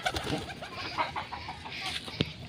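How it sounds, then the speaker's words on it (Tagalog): Pigeons on a roof coo and flutter nearby in soft, scattered bursts, with faint clucking notes and rustling over a quiet outdoor background, no speech. "Yung sa bubong mga kalapatids."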